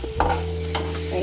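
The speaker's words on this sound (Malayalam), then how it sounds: "കറിവേപ്പില ഇട്ടിട്ട് നന്നായി അതിൽ വരട്ടെ." Curry leaves sautéing in a pan for an egg curry, giving a loud, close, continuous sizzle with a brief stirring scrape, over a steady low hum.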